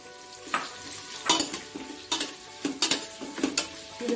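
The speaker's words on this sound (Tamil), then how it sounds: "இப்போ இந்த ஆயில்ல நம்ம கட் பண்ணி வச்சிருக்க வெங்காயம் எல்லாம் ஆட் பண்ணோம்" Chopped onions fry in hot oil for a spicy Hyderabadi mutton curry, a steady soft sizzle broken by several sharp, close scrapes and clinks of a spoon stirring against the pan, with no talk.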